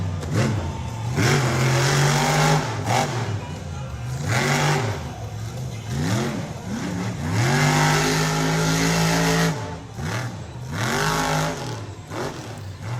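Monster truck engine revving hard in mud at a show, loud repeated surging roars rising and falling with strained, power-lacking bursts and short dips between.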